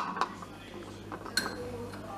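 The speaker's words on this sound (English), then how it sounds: "we're adding a teaspoon of sugar" Metal teaspoon clinking against glass bottles while sugar is added to cider, a few sharp bright clinks spread over two seconds, close by, with talk in the background.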